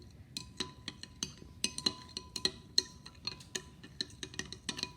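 A spoon stirs an enzyme tablet dissolving in a glass, tapping and clinking against the sides in a quick, irregular rhythm, close and fairly quiet.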